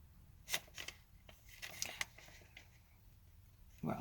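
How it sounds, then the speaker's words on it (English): Loose sheets of paper shuffled and handled on a desk, a run of soft rustles and flicks with a few sharper crinkles, close and moderately quiet, ending in a brief louder burst. "Shuffling papers, I know."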